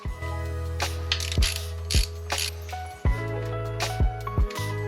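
A ratchet snugs down starter bolts on a Honda Civic or Integra, with repeated quick clicking strokes in short bursts, close and clear, several pauses between pulls.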